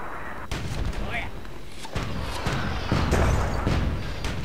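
Mortar fire in a Myth II fantasy battle, with dwarven mortars lobbing shells into goblins: a rapid string of heavy booms and crashing impacts, loud and close, with some game chatter mixed in.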